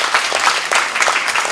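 An audience applauds steadily at the opening of a nonwoven-fabric factory, the clapping loud, dense and continuous throughout with no voices over it.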